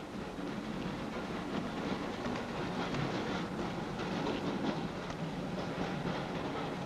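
Railroad cars of a moving passenger train rumble with a steady clickety-clack, a constant close roar throughout with no voices.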